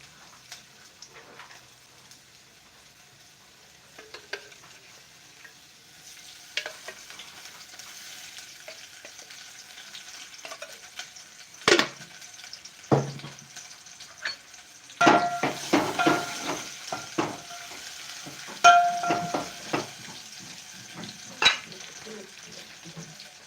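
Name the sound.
onion frying and being stirred in oil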